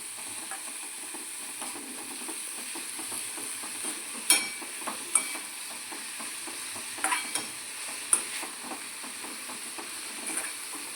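Fenugreek leaves sautéing in a pan for methi and bajra vada, a continuous soft sizzle and hiss with occasional stirring scrapes and light knocks, steady and close throughout.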